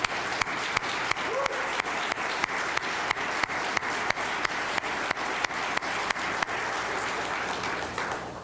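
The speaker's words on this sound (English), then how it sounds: "we'll give you a quick round of applause" A room applauds a team standing at an Oklahoma attorney general's press conference. Sustained crowd clapping is broken by a regular train of sharp clicks, likely camera shutters, repeating about every half second.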